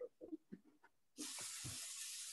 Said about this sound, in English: we're gonna spray our pan with cooking spray